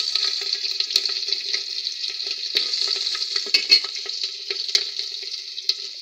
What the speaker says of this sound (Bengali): দুটো তেজপাতা, এলাচ, দারচিনি, লবঙ্গ দিয়ে দিচ্ছি। দিয়ে দিচ্ছি কাঁচা লঙ্কা।